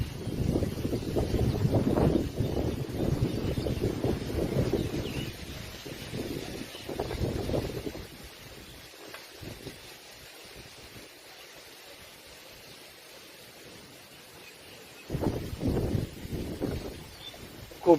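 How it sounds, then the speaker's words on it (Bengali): Strong gusty wind under a cloudy sky, roaring across the microphone in heavy bursts that fade to a quieter lull before surging again. "খুব জোরে বাতাস হচ্ছে,"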